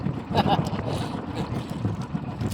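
Strong wind buffets the microphone in a constant low rumble, with faint voices partly buried beneath the gusts.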